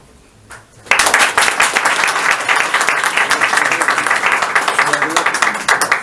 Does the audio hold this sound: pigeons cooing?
no